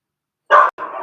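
Two close barks from dogs indoors, loud and sharp, the second slightly softer and longer, with no talk over them.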